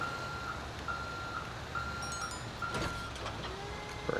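Steady, evenly spaced reversing beeps from a tow truck backing up to a car in a driving video game, repeating about every half second over a constant engine drone, with a few brief clicks and a rising tone near the end.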